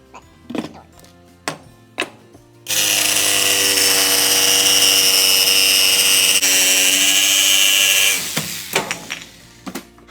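Jigsaw cutting wood for a chicken nesting box: a loud, steady buzzing cut of about five seconds, framed by sharp knocks and handling thumps before and after.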